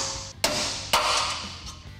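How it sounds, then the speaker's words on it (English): A hammer drives a punch into a ground-off rivet head on a Chevy S-10 leaf spring mount, two sharp metallic hits about half a second apart, close and loud, with the second followed by a fainter tap. "you're gonna stick your punch right there and then just give it a few good hits"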